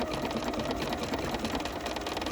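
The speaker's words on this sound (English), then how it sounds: "we're going to stitch it again" A sewing machine runs steadily, stitching a decorative pattern on a fabric postcard with a dense, continuous mechanical whir and rapid needle rhythm throughout, close and fairly loud.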